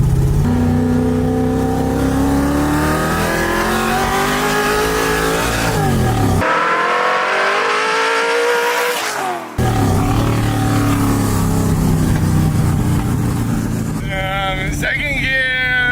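A car engine revs hard through second gear, a loud, rising roar that climbs in pitch, briefly cuts out, then surges again near the microphone.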